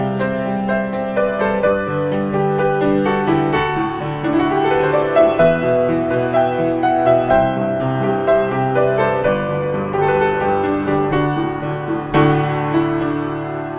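The intro of a song is played on piano, opening on a dramatic low E octave while the right hand moves down the keys in a rich, sustained, continuous passage, close and alone.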